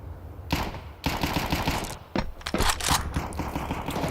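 Rapid gunfire in a Counter-Strike match: sharp bursts and single shots crackle in close succession for the full few seconds, loud and dense with no talk over them.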